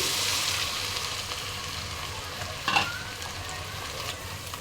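Sour yogurt being stirred into a frying beef biryani masala with garlic paste, a steady sizzle under scraping spoon strokes, with one louder stir near the end.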